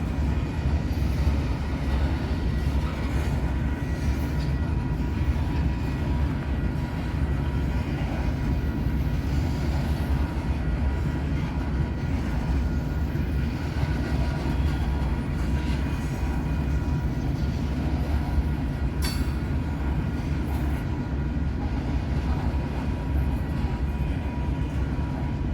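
A train hauled by former KCS locomotives rolls past in a steady, continuous rumble and rattle of wagons that holds at an even loudness throughout, with no horn or voices.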